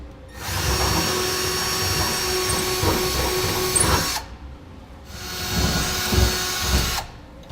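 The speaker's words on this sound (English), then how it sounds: "we can come underneath and begin drilling out our holes" Loud power drill whirring in two long bursts separated by a short pause, with a grinding, high-pitched whine as it bores holes through the metal frame rail of a 2016 Ram 2500 truck.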